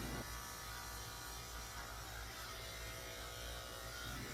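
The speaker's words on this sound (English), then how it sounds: "I'm shaving the pads of her feet out with a 30 blade" Electric clippers fitted with a 30 blade shave the hair from a poodle's paw pads, giving a steady, low, continuous buzz that holds evenly throughout at a faint, close level with no talking.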